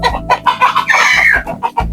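Native chickens, a breeding rooster with hens, cluck in short close bursts, with one drawn-out higher call in the middle, loud and near with no talk.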